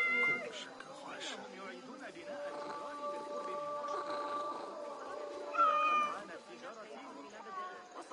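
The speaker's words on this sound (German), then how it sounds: "Eine Katze!" A cat meows in the game Assassin's Creed Mirage on PS5, several short mewing calls over a steady background score, with someone talking in German over them.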